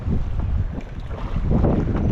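Strong wind roars and buffets the microphone continuously during night net fishing, a dense low rumble with a faint wash of water beneath it.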